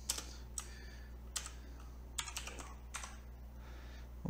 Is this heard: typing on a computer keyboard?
yes